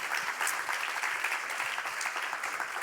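Audience at a public discussion applauding the participants, a steady wash of many clapping hands at moderate distance, continuous and even.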